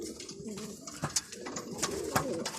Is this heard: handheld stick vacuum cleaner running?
no